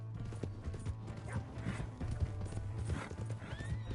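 A horse's hooves clip-clop alongside a whinny in Red Dead Redemption II, with steady hoofbeats and creaking tack over a low hum, close and moderately loud.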